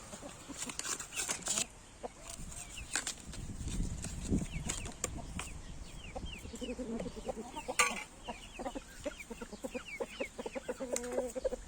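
Jersey and Brahma chickens cluck and chatter while pecking at egg-laying feed, a busy close flock with overlapping clucks, a brief flurry of wingbeats and scratching near the start, then steady calls throughout.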